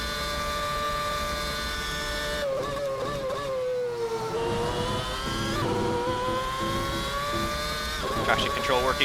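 McLaren MP4/22 Formula One car in Assetto Corsa at Imola, its high-pitched engine wailing loud and close, revving up through gears, dropping, then climbing again through corners with traction control cutting in.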